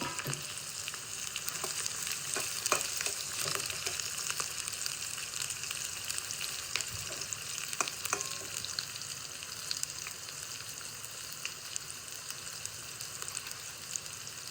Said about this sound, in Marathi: कांदा चिरून आता तेलात टाकलेला आहे, तळून घेते.